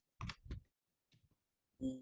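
A computer mouse gives a quick double click up close, followed by another soft click and a brief low thump in a quiet room.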